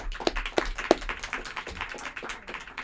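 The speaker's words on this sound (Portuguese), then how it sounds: "Palmas" A small audience claps in a scattered, irregular patter after a lecturer's answer, the sound fairly faint and fading over a few seconds with no talking.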